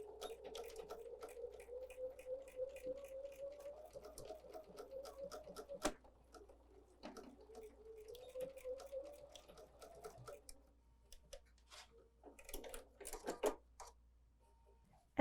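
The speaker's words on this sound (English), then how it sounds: "we will go back to our sewing machine now with a straight stitch, and we'll just sew top to bottom" A sewing machine runs a straight stitch down an elastic scrunchie in two steady bursts, its motor hum climbing slightly in pitch during each run before stopping, with a few faint clicks and handling noises afterward.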